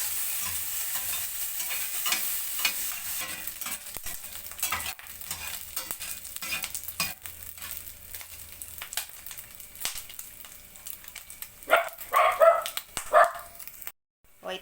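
Pork belly (liempo) frying in its own rendered fat, a soft, steady sizzle with stirring scrapes under light background noise, and a dog barking briefly near the end.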